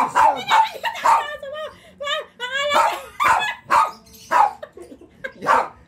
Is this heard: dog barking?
yes